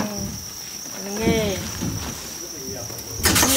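Farmed crickets keep up a steady, high continuous chirping trill throughout, with a person's voice briefly talking over it partway through.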